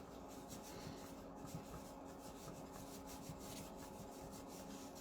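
Steady rubbing on a wooden workpiece to lift dried glue, a continuous close scraping friction with no pauses and no voices.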